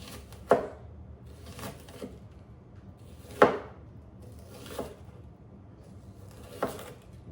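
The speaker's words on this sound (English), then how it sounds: "I'm going to slice up this red onion as well" Knife slicing through a red onion on a cutting board, a handful of sharp separate cuts spaced a second or more apart, close and fairly quiet, with no talking.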